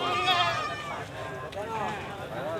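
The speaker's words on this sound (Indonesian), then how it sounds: "Ini lucu-lucu ini kambingnya saudara anak ini." Young goats bleating at an outdoor livestock market in Gunungkidul, Yogyakarta, a few wavering, nasal cries close by over crowd murmur, with people talking nearby.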